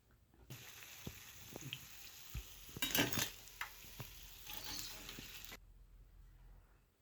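Urad dal vadai in hot oil give a crackling, bubbling sizzle with brief stirring and scraping sounds, close and moderately loud, the frying noise thickening and swelling midway before cutting off near the end.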